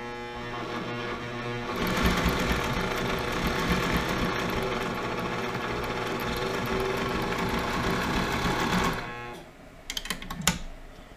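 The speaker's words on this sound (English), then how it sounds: "Now I've got to run them through the sewing machine." A sewing machine runs steadily for about seven seconds, punching stitch holes down the sides of leather spoke covers in a boatyard workshop, with a dense mechanical whir that stops abruptly, followed by a few sharp clicks and handling noises.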